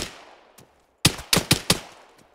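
Enemy rifle fire in an Arma 3 training mission: a faint distant shot, then four sharp, fairly loud gunshots in quick uneven succession with short echoing tails, no talking.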